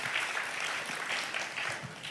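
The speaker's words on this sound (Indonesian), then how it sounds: "Berikan tepuk tangan yang lebih meriah untuk Tuhan Yesus." Church congregation applauding, a dense, sustained wash of many hands clapping at once, steady and fairly loud with no voices over it.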